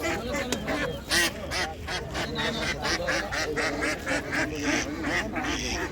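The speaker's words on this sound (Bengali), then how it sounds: "এইদিকে আছে হাঁস" Ducks for sale at a busy live-poultry market, quacking and honking in a dense, steady clamor up close, with a crowd talking throughout.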